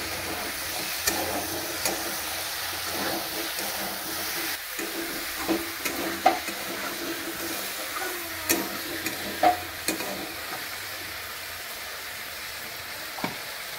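Green chillies stirred into spices frying in a pan for rui fish curry, a steady sizzle broken by repeated scraping and clattering strokes of the spatula, close and moderately loud.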